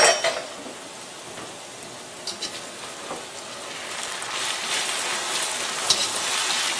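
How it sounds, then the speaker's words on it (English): Buttermilk-battered okra frying in a pan on a stove, a dense rain-like hiss of hot oil with a few scattered pan clinks as pieces are flipped, the sizzle swelling louder toward the end. "it's time to flip this okra"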